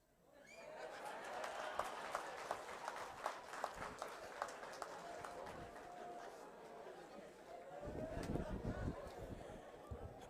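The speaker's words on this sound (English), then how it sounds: "Can we give another round of applause to Prof. Amupanda?" A crowd applauds with scattered claps building into steady clapping, mixed with chatter and a few cheers, swelling again near the end.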